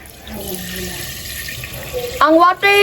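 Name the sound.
water being poured in to cook Buldak noodles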